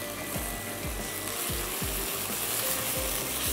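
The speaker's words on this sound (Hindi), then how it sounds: "गोल्डन कलर आने तक हम इसको कर लेंगे फ्राई।" Pizza bomb filling fries in a pan until golden, giving a steady, loud sizzling hiss with a regular clicking or scraping pulse underneath.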